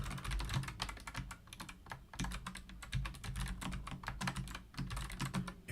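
A computer keyboard is typed on steadily and quickly, with dense clicking keystrokes and a couple of brief pauses. It is close and heard alone.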